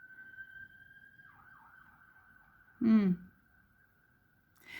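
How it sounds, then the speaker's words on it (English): A faint emergency vehicle siren wails steadily in the distance outside, with a brief burst of nearby voice partway through. "Please excuse all the sirens out."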